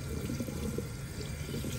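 Lukewarm tap water running steadily for a hair shampoo, a soft continuous rushing and splashing, fairly quiet and close, with no voices.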